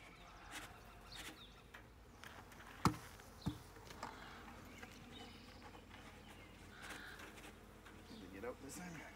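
Honeybees shaken from a frame into a nucleus hive give a steady, close buzzing hum of many insects, with a few sharp knocks and thumps from the shake and faint talk underneath.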